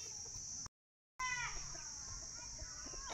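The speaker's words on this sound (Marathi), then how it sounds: "ही आमच्या प्युअर गावरान कोंबड्या देशी कोंबड्या बघा" Desi free-range country chickens (gavran kombdi) give a few short clucks nearby over a steady high outdoor hum, with a brief dropout near the start.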